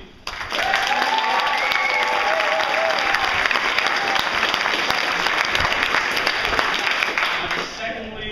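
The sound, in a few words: audience applause for Davey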